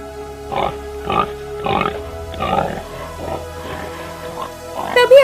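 A wild boar grunts in a series of short, rhythmic snorts, close and fairly loud, with a faint music bed underneath and no talk.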